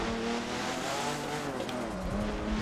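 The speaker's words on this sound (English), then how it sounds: "This car sounds a little digitized-ish to me." A race car engine in Forza Motorsport 7 drones steadily up close with a slightly synthetic, digitized tone, holding a constant pitch with brief tire squeal at times.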